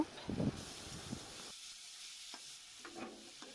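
Ginger-garlic paste and chopped green chillies stirred in a pan for vegetable kofta curry, a soft sizzle with a few brief scraping strokes early on, then quieter hiss.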